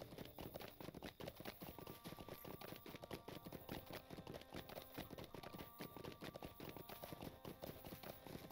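Horse hooves clip-clopping in the Lord of the Rings Online video game, a quiet, steady rhythmic trot of closely spaced hoof hits running continuously with no talk.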